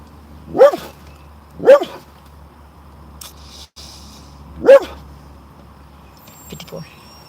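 A dog barks three times nearby, loud single woofs spaced irregularly, with a person talking in the background.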